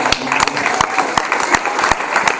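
Audience applause at a sports club presentation night, a steady patter of hand claps filling the room with a few sharper claps standing out, fairly close and loud.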